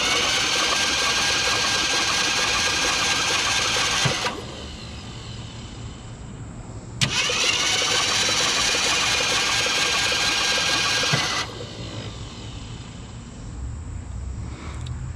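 Formerly seized engine of a Ford Galaxie being cranked by its starter in two long bursts of several seconds each, a loud, steady whirring grind that cuts off abruptly between them, with a quieter hum in the pauses.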